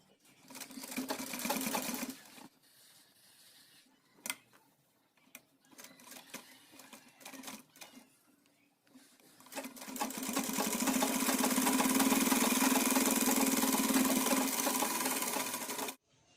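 Sewing machine stitching a button placket on a child's pathani suit, short bursts of rapid mechanical clatter with pauses, then a long, steady, close run of stitching before it stops.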